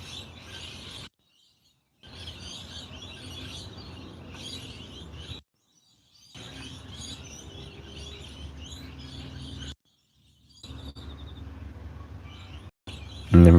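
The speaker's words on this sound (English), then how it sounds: "I'm just hearing the parrots" Parrots call in a bright chattering outdoor chorus, steady and moderately distant, broken by several abrupt silent gaps.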